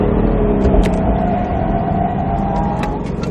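A Roush Mustang RS3 engine droning steadily on a track, a continuous, fairly loud rumble with no clear revving peaks, heard alone without talk.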